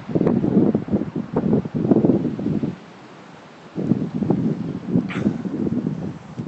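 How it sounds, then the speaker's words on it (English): Gusty wind buffets an outdoor microphone in loud, rumbling bursts, dropping away briefly for about a second before the low roaring returns. "It's a little windy, so I excuse the wind."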